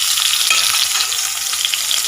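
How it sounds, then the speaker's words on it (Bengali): Brinjal pieces fry in oil in a pan, giving a loud, close, continuous sizzle with small crackles and pops throughout and no voices. "ভাজা করে থাক বেগুনগুলো।"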